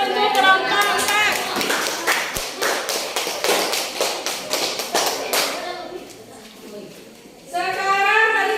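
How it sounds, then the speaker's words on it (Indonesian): A classroom of students clapping for a presenting group, a quick burst of scattered taps and claps that fades out, with children's voices talking near the end. "tepuk tangan untuk kelompok 4"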